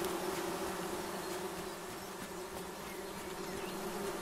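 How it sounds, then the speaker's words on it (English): Bees in the video game Among Trees swarm and buzz around a beehive, a steady close drone holding evenly throughout with no talking. "I don't want to get eaten by bees."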